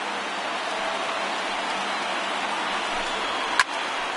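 A baseball stadium crowd of more than 36,000 at a Rays versus Red Sox game rises to its feet, a steady, dense roar of distant cheering that holds level throughout, with one brief sharp crack near the end.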